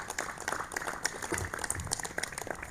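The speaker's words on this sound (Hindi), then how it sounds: "ये तालियां मैंने आपके लिए बजानी है," A yoga instructor's hands clapping during a session, a run of quick, moderately faint claps with a slightly uneven rhythm.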